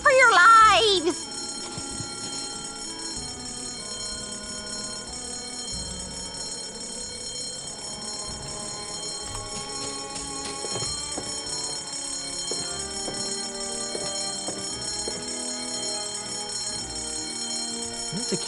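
A fire alarm bell rings loudly in the Monkey Island 4 video game for about a second, then stops, leaving quiet background music and game sounds with scattered chimes over the rest.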